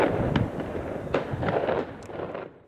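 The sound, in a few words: fireworks exploding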